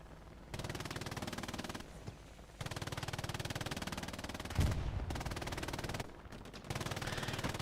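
Sustained machine gun bursts from MG teams in the World War II shooter Hell Let Loose, on the Carentan map, rapid and loud, running in long strings with short pauses between them.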